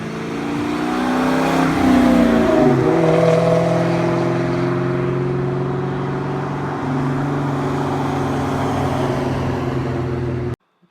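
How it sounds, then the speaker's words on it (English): A 2001 Ford Mustang Bullitt drives past, its engine loud and close as it builds, then settles into a steady, sustained rumble that cuts off abruptly at the end. "Here's a little drive-by of that Bullitt."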